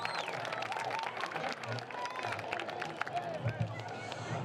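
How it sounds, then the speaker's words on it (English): Crowd applause for the homecoming court at a varsity high school football game, a steady wash of clapping and cheering from a large stadium audience with a voice over the public address system running across it. "let's please give a very big round of applause for this year's homecoming court"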